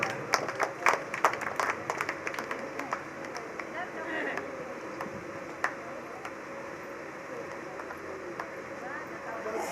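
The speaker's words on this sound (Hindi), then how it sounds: "जोरदार तालियां बंद।" An audience at an all-night devotional bhajan program claps, giving a burst of applause that fades into quieter, scattered claps. Someone speaks over the applause.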